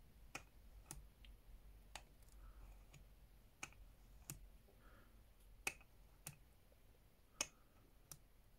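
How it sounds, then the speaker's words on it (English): Sharp, faint clicks from an SVBONY SV215 3–8 mm planetary zoom eyepiece as it is turned come one at a time at irregular intervals, about a dozen over a quiet background hiss, with no talking. "Nice click sound you can hear even in the dark."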